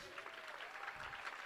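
An audience at a women's conference applauds with a steady wash of clapping, faint and somewhat distant, with a voice speaking over it.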